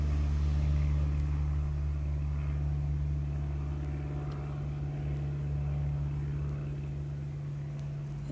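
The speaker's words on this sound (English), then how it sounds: "Now the garbage truck is going through." A garbage truck in the Roblox game rolls through with a steady low engine drone that holds for several seconds at moderate level, slowly easing off with no talking.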